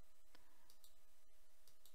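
A computer mouse clicks several times in quick irregular succession, sharp close ticks over a steady background hum with no talk.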